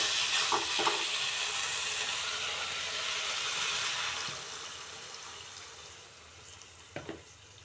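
Water poured onto frying vegetables bursts into a loud, broad hissing sizzle that slowly fades over several seconds, with a couple of stirring clatters near the end.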